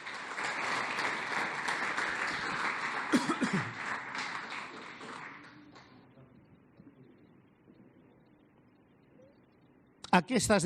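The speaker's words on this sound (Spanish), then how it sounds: "¿por qué no le das un aplauso al Señor?" Congregation applause during a church sermon, dense clapping for about five seconds with a voice calling out over it, then fading to quiet before the preacher resumes speaking.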